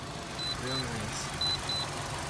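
Carnage Tools jump starter emitting two pairs of short high warning beeps while left connected, over a low rumbling background with a faint voice.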